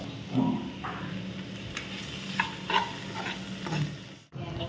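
A spice masala mixture is stirred in a pan over a low flame, with soft scraping strokes over a gentle, quiet sizzle, ending in a brief pause.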